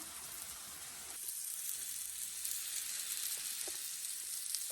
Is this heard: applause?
no